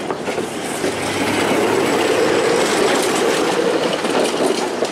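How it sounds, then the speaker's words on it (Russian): A tram rolls along a city street with a steady, close rumble and faint wheel clatter that swells slightly and holds, loud and continuous with no voices. "Тут у нас трамвай едет."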